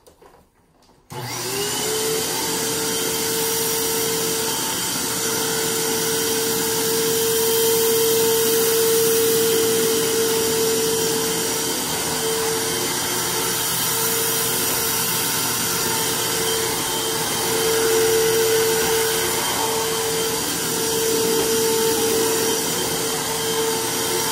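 A Hoover Windtunnel Max bagged vacuum cleaner switches on abruptly and runs steadily and loudly on hardwood floor, a constant roaring whir with a steady tonal hum that swells slightly as it moves along baseboards and into corners.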